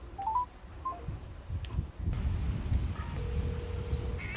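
Short beeping tones from keys pressed on a mobile phone, a quick run of pitched beeps followed by two more, then a held tone over rustling outdoor background noise.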